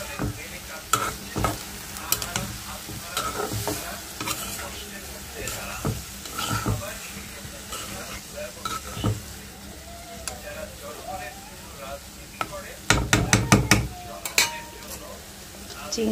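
Sliced green chilies and salt are stirred into a sizzling pan, with steady frying hiss, scraping spoon strokes and metallic clinks, and a busier clatter near the end.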